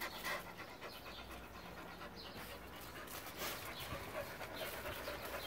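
A dog pants quickly and softly up close, with small wet mouth noises and faint whimpers mixed in.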